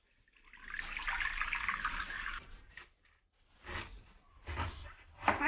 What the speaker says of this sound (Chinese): 娃娃菜用清水洗干净